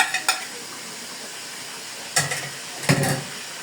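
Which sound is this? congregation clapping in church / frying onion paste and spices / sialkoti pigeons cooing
frying onion paste and spices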